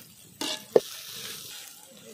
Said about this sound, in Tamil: முருங்கை பூவும் போட்டி நல்லா வதங்கிடுச்சு